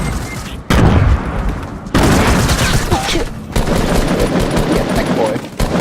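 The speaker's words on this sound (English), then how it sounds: "Where's this guy firing from? Eat my nades, man." Rapid automatic gunfire and explosive grenade blasts from the video game Fortnite, loud and close, arriving in dense bursts with brief gaps between them.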